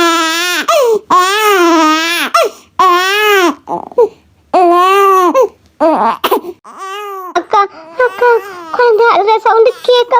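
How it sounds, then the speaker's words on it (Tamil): An infant wails in long, rising and falling cries with short breaths between, loud and close, continuing for several seconds. "குழந்தை அழுற சவுண்டு கேக்காக்கா"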